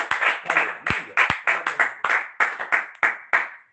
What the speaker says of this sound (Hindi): सो एक बार जोरदार ताली यीशु मसीह के लिए।